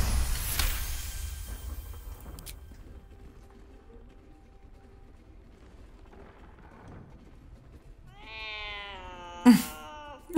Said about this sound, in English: That's an angry cat.